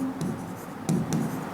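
Pen writing on paper while working a Class 10 geometry triangle problem, close scratchy strokes in short bursts with a few light taps.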